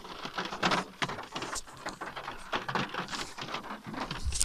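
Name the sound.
rain falling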